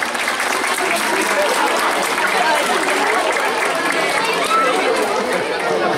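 Audience clapping at a presentation of a gendarmerie police dog unit with young dogs, loud, continuous applause that holds steady for six seconds, with murmuring crowd chatter underneath.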